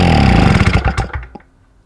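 A 2-stroke SIP generator engine fires briefly, a loud, close, rapid popping buzz that sputters and dies away within about a second and a half.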